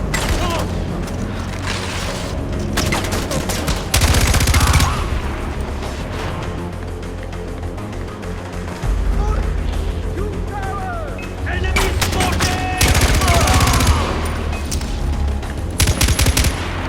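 Bursts of rapid gunfire and booming blasts from Far Cry 4 crackle in repeated volleys, loud at times, with someone talking in between.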